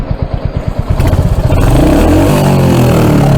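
A Royal Enfield Hunter 350 single-cylinder motorcycle idles in neutral with a loud, close, rhythmic thump, then the throttle is blipped into a rising rev that holds as a dense, steady roar.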